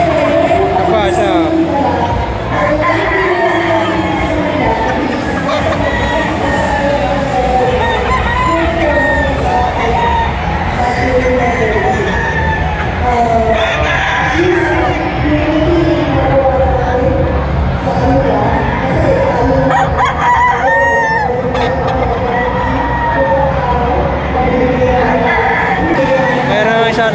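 Pure Boston gamefowl roosters crow among other fowl at a cockfighting expo in San Pablo, Laguna, heard through a loud, constant crowd din with talking and occasional cheering throughout.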